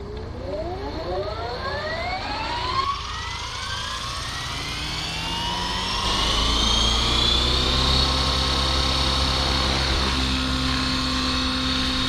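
RC helicopter rotor and motor winding up as throttle rises, a whining tone sweeping upward over several seconds and settling into a steady, louder high-pitched drone, close by.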